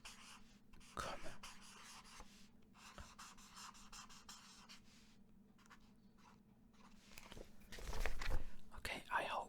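A pen handwriting German words during a relaxed lesson, with soft, faint scratching strokes that come in short bursts and grow a little louder and busier near the end.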